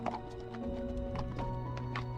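Horse hooves on a steep trail in Galicia along the Camino de Santiago, a few soft clip-clops against a steady background hum, moderately near.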